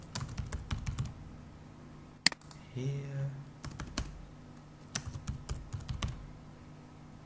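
Keystrokes rattle on a computer keyboard in short bursts of rapid taps with pauses between them, with one sharp click and a brief low electronic tone in the middle, close and fairly quiet; a single word is spoken near the start.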